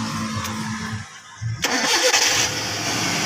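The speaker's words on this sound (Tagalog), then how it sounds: "Ngayon, i-start natin guys kung aandar." A car engine, long in storage and fed fuel from a bottle, is cranked and catches, with a short churning start, a sharp transition, and then a rough running idle, loud and close.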